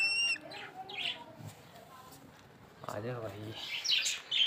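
Pet parrots chirping outdoors in the rain give a few short, sharp calls scattered through the clip, while someone speaks briefly nearby.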